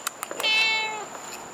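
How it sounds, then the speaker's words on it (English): A pet cat gives one clear, close meow rising and falling over about half a second, with a few faint clicks and a steady background tone around it, on a fishing trip where kingfish was caught and cleaned. "you could hear Cutie meowing"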